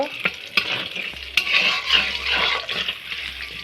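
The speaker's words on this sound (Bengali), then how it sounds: "তেলের মধ্যে আমি পেঁয়াজ কুচি দিয়ে দেব পেঁয়াজ কুচিটা হালকা করে আমি ভেজে নেব" Chopped onions fry in oil in a pan, a soft steady sizzle broken by several scraping strokes and knocks of a spatula as they are stirred, without speech.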